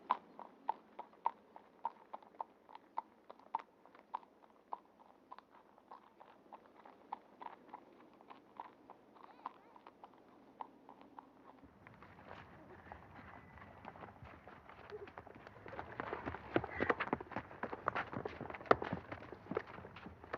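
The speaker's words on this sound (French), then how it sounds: "On va rentrer le cheval à l'écurie." Steady clip-clop of horse hooves walking on a hard surface as the horse is led into the stable, a regular rhythm close by, joined later by louder rustling and shuffling noise.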